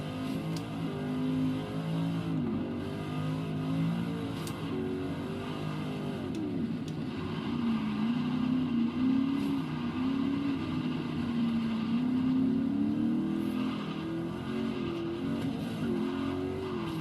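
A Corvette GTLM race car engine from Forza Horizon 3 drones and revs continuously, its pitch rising and falling through gear changes, with faint tyre scrubs and small knocks over the engine's steady roar.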